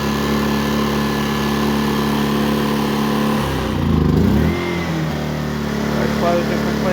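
A Pulsar GX400BN propane generator runs close by with a steady engine drone and hum, its tone dipping and surging briefly around the middle before settling back to an even, continuous run.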